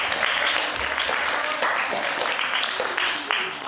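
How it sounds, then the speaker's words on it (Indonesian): Children at a school retreat applauding their friends, with brisk, steady group clapping that fills the room evenly throughout. "Tepuk tangan untuk teman-teman sekalian."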